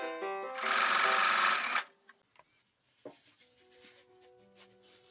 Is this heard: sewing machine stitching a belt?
yes